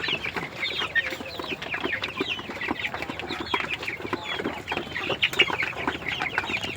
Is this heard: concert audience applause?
no